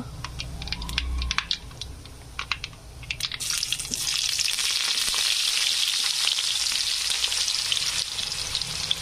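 Chopped onion dropped into hot oil already crackling with mustard seeds and cumin, a few early pops giving way to a loud, steady, close frying hiss that fills the rest of the stretch.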